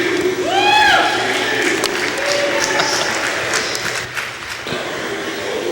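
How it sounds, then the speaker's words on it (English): Rodeo arena crowd applauding and cheering a rider as she leaves, a steady wash of clapping with whistles rising early, heard fairly close and continuing under background voices. "And the crowd sends her home."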